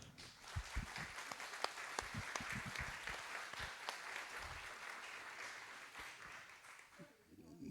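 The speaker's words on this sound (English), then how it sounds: "And again, for them, a round of applause." A dinner-event audience gives a round of applause for an organization, dense continuous clapping that slowly thins and fades toward the end, fairly faint overall.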